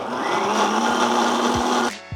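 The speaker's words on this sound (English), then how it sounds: "then a blender is your friend." A blender whirs steadily, close and loud, blending miso caramel with slightly toasted milk solids, then cuts off abruptly near the end, leaving a couple of soft knocks.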